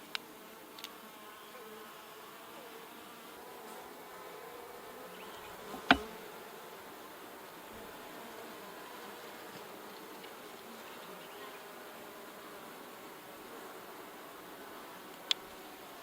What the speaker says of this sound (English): I'm going to shake a few bees off this one.